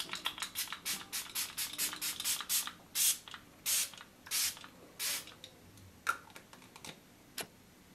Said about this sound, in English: I'm going to go and use the new 16 hours long lasting Catrice All Control Matte Fixing Spray